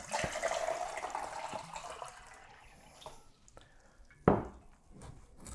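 Water pours into a glass with a bright, steady splashing that thins out over a few seconds, followed by a sharp knock of the glass being set down.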